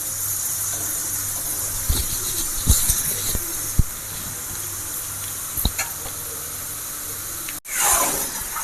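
Potato pieces deep frying in oil for a Navaratna mixture, a continuous hissing sizzle with scattered sharp pops and clicks, close and fairly loud, with a brief burst of bubbling near the end.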